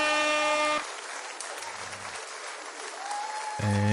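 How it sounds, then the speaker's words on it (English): Applause from a small group at a live Friday night quiz show, a brief patter of clapping between stretches of music and tones, fairly quiet and short. "One more round of applause for Zany McGinger."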